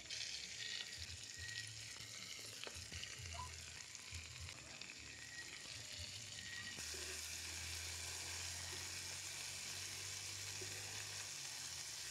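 Tomato, garlic and olive oil sautéing in a pan for seafood pasta, a steady close sizzle that holds throughout and brightens and thickens partway through, with faint stirring clinks.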